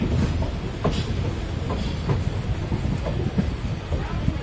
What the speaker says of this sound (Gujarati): ફાઇનલી એન્ટર થાય છે આપણી ટ્રેન પોરબંદરમાં